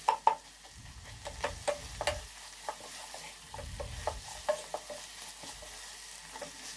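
Tomato being stirred into a broad bean curry in a pan, with a soft continuous sizzle and a string of light, irregular spatula taps and scrapes, close but quiet.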